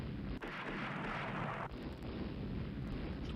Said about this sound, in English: So we got a torpedo hit